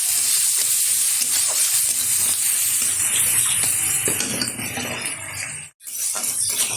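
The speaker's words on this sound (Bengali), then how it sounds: "এখন দিয়ে দেবো কুচিয়ে রাখা পেঁয়াজ আর কিছুটা কাঁচা লঙ্কা। খুব ভালোভাবে ভেজে নেব।" Chopped onions and green chillies frying hard in hot oil with a little turmeric, a loud dense crackling sizzle broken by metallic stirring scrapes, pausing for a moment near the end before resuming.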